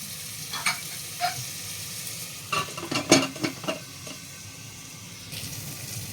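Vegetables sauté in a pan for spiced pea rice, with a low steady sizzle and several brief scraping stirs and clinks at close range, no voices.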